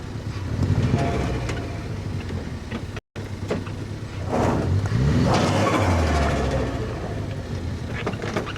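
Vortex V2 car driving for the first time in months, its engine note rising and falling steadily and fairly close, with no talk over it.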